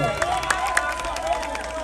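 Audience at a live Haitian music performance claps and cheers, a dense burst of applause with rhythmic hand claps standing out over crowd noise.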